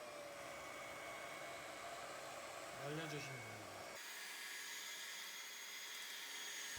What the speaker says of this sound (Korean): 다 칠하셨으면 드라이기로 말려줍니다.